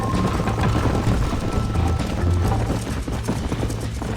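Horse hooves galloping in the video game Red Dead Redemption, a fast steady clip-clop rhythm up close, layered over a low rumbling game soundscape with no voices.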